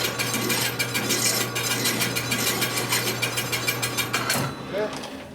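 A ratcheting tool clicks in a quick, even series while deburring a thread on a custom Harley Evo chopper part, loud and close, then stops near the end with a brief clatter.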